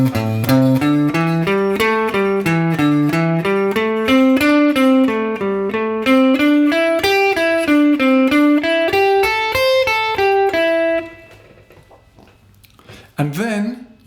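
Pentatonic sequence exercise played as four-note patterns, a steady run of quick, clean melodic notes moving up and down through a position, loud and close, ending with a short pause and a brief final sound.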